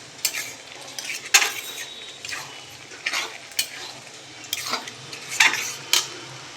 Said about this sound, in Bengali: দিয়ে ভালো করে মিশিয়ে দেব যাতে ডিমগুলো ভালো করে ঘেঁটেও যায়